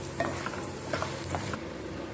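Chana dal and urad dal tempering fries in oil, a close, steady sizzle broken by light stirring taps.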